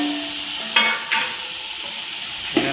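A sizzling tempering of tomatoes and chillies fries steadily up close while a spoon knocks and scrapes against the pan three times.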